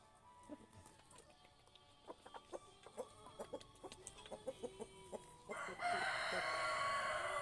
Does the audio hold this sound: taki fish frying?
no